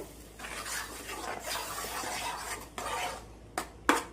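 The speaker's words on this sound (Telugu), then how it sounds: "పప్పు అంతా ఒకసారి కలుపుదాం" A spoon scrapes and stirs through thick cooked toor dal lentils in a pot for sambar in repeated strokes, ending with a couple of sharp clinks against the rim.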